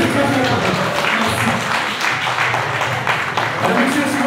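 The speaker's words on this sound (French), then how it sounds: "Applaudissez très fort." A crowd at a charity association's general assembly claps heartily in a sustained burst of applause. Sharp hand claps crackle throughout, with voices faintly mixed underneath.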